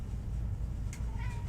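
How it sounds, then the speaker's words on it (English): A house cat meows a couple of times indoors, short high cries near the end over a steady low background hum. "Why are you meowing so much?"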